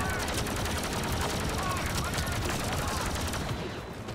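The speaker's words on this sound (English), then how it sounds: "Fucking machine gun." Rapid machine gun fire in the Star Wars Battlefront 2 video game, a dense continuous burst of shots lasting several seconds, loud and close, with a voice talking over it.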